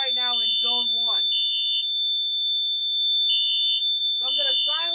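A Firelite MS4424B fire alarm demo panel sounds a steady, loud electronic alarm tone that runs unbroken through the whole stretch, with someone talking over it at the start and end and a quieter alarm-only gap in between.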